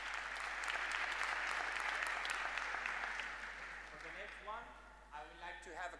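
A conference audience applauds in a dense, steady wash of clapping that fades toward the end as a voice begins speaking over it.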